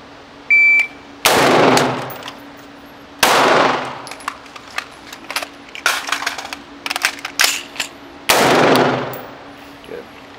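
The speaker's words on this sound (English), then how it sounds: "that was your pistol shot" Pistol shots at an outdoor shooting range, several loud close cracks, each followed by a long decaying echo, with clattering metallic clinks and brief knocks between them.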